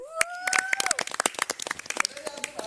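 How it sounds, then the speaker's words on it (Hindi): Inside the Bigg Boss OTT season 3 house, a small group of housemates claps in sharp, uneven bursts that are close and fairly loud, with a voice carrying over the claps. "के लिए जोरदार तालियां भाई।"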